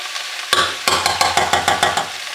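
Garlic and curry powder stirred in a cooking pan, a spoon scraping the pan in a steady series of about eight rhythmic strokes over a faint sizzle, close and clear with no talking.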